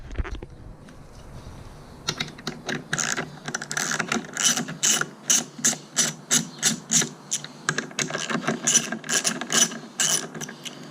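A ratchet loosens the seat bolts on a Suzuki DRZ-400S motorcycle: fast, rhythmic clicking strokes, close and alone, in repeated bursts for about nine seconds.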